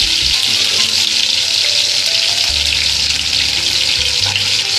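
Green chillies and garlic fry in hot oil with a loud, continuous crackling sizzle, close up, with a few low stirring knocks beneath.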